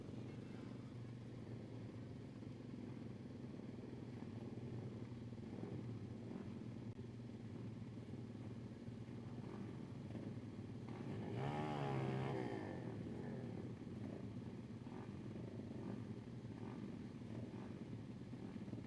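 Vintage air-cooled racing motorcycles idle at a dirt-track start line, a faint, distant steady drone with a short louder rev rising around the middle before settling back.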